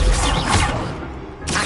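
Incendio fire spell cast in the Hogwarts Legacy video game, a loud, dense whooshing burst of flame that fills the moment, fades slightly, then flares again near the end.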